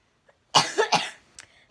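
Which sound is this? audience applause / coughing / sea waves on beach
coughing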